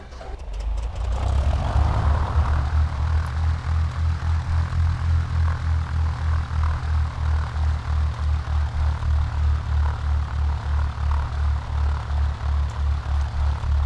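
A Cessna 172 engine in a flight simulator game cranks briefly and catches, then settles into a loud, steady propeller idle with an even pulsing throb and no talking.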